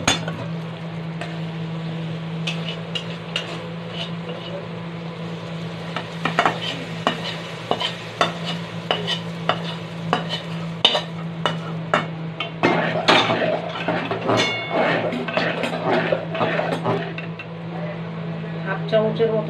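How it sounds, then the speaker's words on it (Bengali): Spices tempered into hot oil and poured into vegetable khichdi, giving a continuous sizzle with sharp clinks and scraping stirs of a utensil against the pot that grow busier and louder partway through. "এবার খিচুড়িতে ফোড়ন দিয়ে দেবো।"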